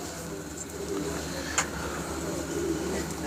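Soft, low pigeon coos repeat against a steady outdoor hum, with a brief faint click partway through.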